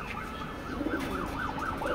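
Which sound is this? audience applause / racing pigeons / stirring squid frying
racing pigeons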